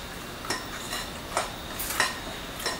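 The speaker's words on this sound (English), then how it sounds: "Add a little bit more buttermilk. Mix it." Coconut bread batter with buttermilk is stirred in a bowl, heard as a few distinct scraping knocks of a utensil against the bowl at irregular intervals, close and fairly quiet, with no talking.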